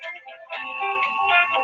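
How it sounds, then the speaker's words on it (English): A phone ringtone for an incoming call plays as a melodic electronic tone, a short phrase and then a sustained, brighter tune, clear and moderately loud. "I'm not taking this phone call."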